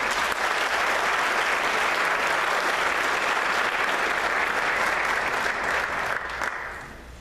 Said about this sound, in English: let's give Cody a round of applause